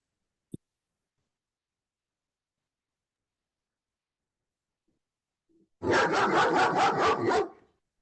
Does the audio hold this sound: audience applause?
no